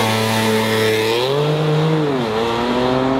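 A BMW and a Ford race at a street racing takeover. A loud, close engine roar holds a steady pitch, rises briefly, then drops and falls away, with no voices.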